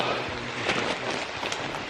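Rain falls steadily on a mountain trail on Mt. Hamiguitan during a hike, a dense, even hiss with a few sharper patters, continuous and fairly close throughout.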